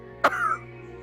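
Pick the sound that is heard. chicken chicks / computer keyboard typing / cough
cough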